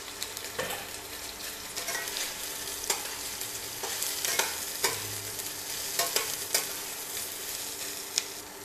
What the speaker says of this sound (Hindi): सोयाबीन को थोड़ा लाल लाल करके फ्राई कर लूँगी।